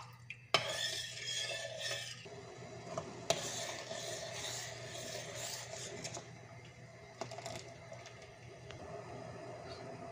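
Tomato puree cooks in a pot while it is stirred, making repeated soft scraping and rubbing strokes that come in bursts over a quiet, steady background.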